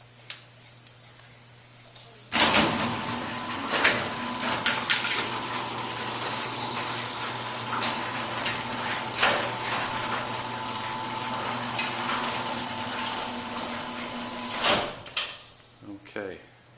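A motorized garage door closes, starting abruptly with a clunk and then running as a steady mechanical hum with rattles and knocks for about twelve seconds before stopping with a thud.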